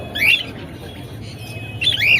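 Two sharp squawks from caged birds at a bird market ring out, one at the start and one near the end, over a low murmur of background noise.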